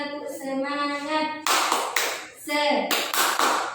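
A vocational high school class performs rhythmic chant-and-clap routine: a voice sings or chants over the first part, then sharp bursts of group clapping break out in short, patterned groups.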